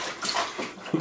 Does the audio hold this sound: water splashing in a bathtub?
yes